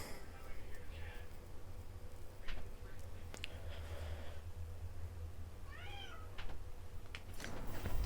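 A cat meows a couple of times in a room with a steady low hum, with faint talking and other background noise around it.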